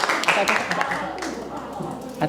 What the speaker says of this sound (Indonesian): kita kasih tepuk tangan lagi yang meriah untuk kelompok 3 ya